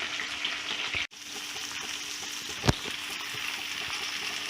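Onions frying in a pan for dry chilli gobi, a steady soft sizzle with faint stirring scrapes and one brief sharp clink partway through, continuous and close with no voices.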